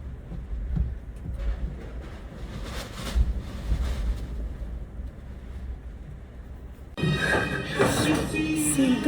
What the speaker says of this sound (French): C'est une dinguerie le vent.